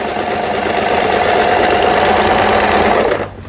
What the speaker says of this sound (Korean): 수리가 잘 돼서 부드럽게 박음질을 이렇게 할 수 있게 되었습니다